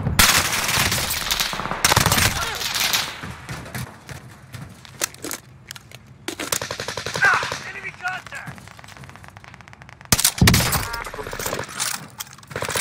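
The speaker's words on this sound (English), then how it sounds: "shooting! Under fire!" Video game gunfire crackles in rapid automatic bursts and single shots, loud and close, with breaks between volleys while players talk over the action.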